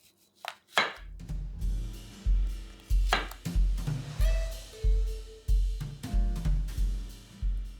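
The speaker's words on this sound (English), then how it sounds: "I'm gonna slice off a little bit of the bottom because they're really ripe and we don't want them to roll" A knife chops through ripe green tomatoes on a cutting board, about a dozen firm, evenly spaced thuds with short slicing scrapes between them, close and clear with no talking.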